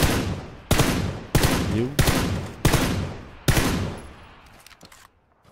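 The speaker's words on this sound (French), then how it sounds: "C'est moi qui tirais, des tirs de sommation." Warning shots fired in PUBG: five loud, sharp bursts of automatic gunfire spaced under a second apart, each trailing into echo, with a brief spoken question between them.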